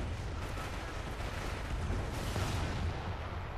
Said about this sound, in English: That was about, what, 8 bazookas firing at the same target?